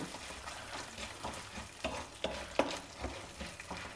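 Dals fry gently on a low flame for a South Indian breakfast, a faint, even sizzle broken by soft scraping and clicking as they are stirred.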